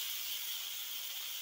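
Fried potatoes tossed into hot masala in a pan give a steady, close, broadband sizzle that holds evenly throughout, with no talking.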